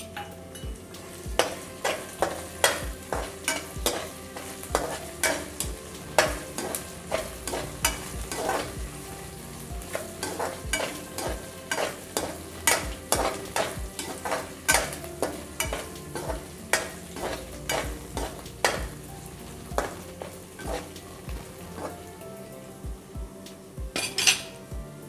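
Mung dal mixture fries in a pan with soft sizzling under frequent clinks and scrapes of a spoon stirring against the metal, close and continuous with no talking.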